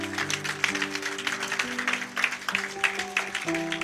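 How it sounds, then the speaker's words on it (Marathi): A church congregation claps in a burst of applause after a Bible verse, dense and steady, with musical tones sustained underneath. "जोरदार टाळ्या वचनासाठी"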